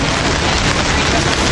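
Rain falls at an outdoor rally as a loud, dense, even hiss of drops with no breaks, close to the microphone and unaccompanied by speech.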